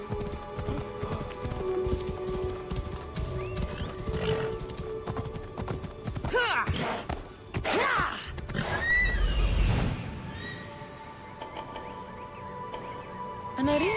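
A horse in Assassin's Creed Odyssey whinnies and neighs repeatedly over a steady clip-clop of hooves, with a loud snort and rustle near the middle and game ambience continuing throughout.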